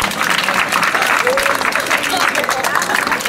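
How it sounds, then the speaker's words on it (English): A large audience at a children's charity event applauds loudly after a magic trick, a dense, continuous wash of clapping with some cheering voices mixed in. "we'll give you a massive round of applause"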